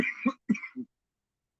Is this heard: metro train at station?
no